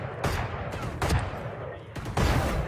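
Rapid bursts of video game gunfire in a mobile shooter, dense repeated shots with a few sharper volleys, loud and continuous under a steady game soundscape.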